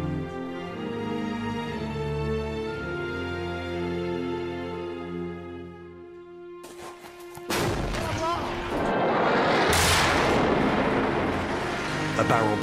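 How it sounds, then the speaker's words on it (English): Barrel bombing in southwest Damascus: a sustained tonal drone suddenly gives way to a loud, rumbling blast and heavy roaring debris noise that swells and stays dense to the end, with voices mixed in. "A barrel bombing in the southwest of Damascus in January last year."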